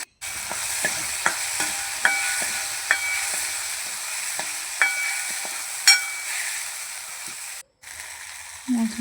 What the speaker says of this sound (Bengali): সব কিছু দিয়ে আবার মশলাটা ভালো করে কষে নিচ্ছি যতক্ষণ না কাঁচা গন্ধটা চলে যাচ্ছে